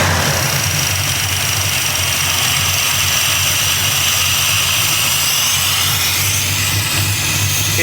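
An EFI-converted AMX's engine runs continuously on a freshly written tune, a loud, steady low rumble close by with a slightly rough, uneven edge as it relearns.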